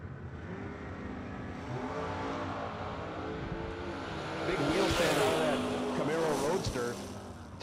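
A Camaro Roadster drag racing at a Christmas bash event, its engine roaring steadily and swelling louder midway as it accelerates down the strip, with an announcer talking over it.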